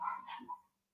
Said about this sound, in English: sorry about the dogs. They're just part of the brand at this point